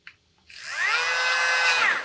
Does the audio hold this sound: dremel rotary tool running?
yes